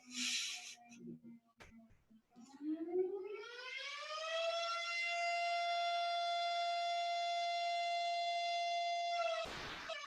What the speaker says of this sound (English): I know you all missed that siren.